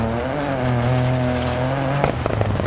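Rally car driving in the Dirt 4 video game, a loud steady engine drone holding one pitch before shifting, then rougher gravel-like crackle as the car turns, with no voices.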